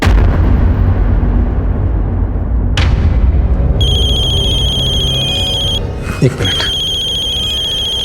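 A telephone ringtone chirps in repeated electronic bursts under loud background noise and rumble. Someone speaks briefly over the ringing.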